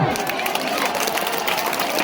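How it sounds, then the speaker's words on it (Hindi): Loud applause from a large crowd at the closing of a village Ramlila marking Lord Ram's coronation, a dense, steady roar of clapping mixed with crowd noise and voices. "जोरदार तालियां"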